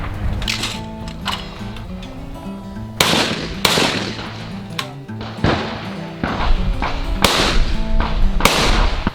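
Beretta shotguns fire at an outdoor shotgun range, a series of loud, sharp blasts spaced a second or two apart, each with a booming tail.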